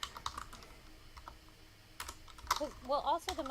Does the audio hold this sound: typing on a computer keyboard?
yes